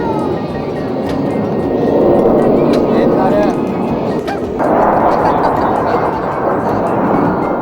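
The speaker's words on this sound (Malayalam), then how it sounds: "പോർ വിമാനങ്ങളുടെ കാതടപ്പിക്കുന്ന ശബ്ദത്തോടെയുള്ള പറക്കലിനിടയിൽ" A loud, continuous jet engine roar rumbles broadly and swells slightly over several seconds, as fighter jets pass overhead at an air show in the USA, with a faint voice beneath.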